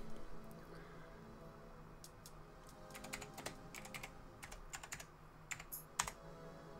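Someone types a directory name on a computer keyboard while working with a PS1 Net Yaroze indie dev kit, producing bursts of quiet, close key clicks with brief pauses between them and no talking.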